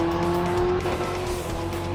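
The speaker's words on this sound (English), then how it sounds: "we get ready to see a bunch of little cars go at 130 miles per hour" Race cars in Gran Turismo 7 at around 130 mph hold a steady, sustained engine whine with a faint tire squeal, close and continuous for a brief moment.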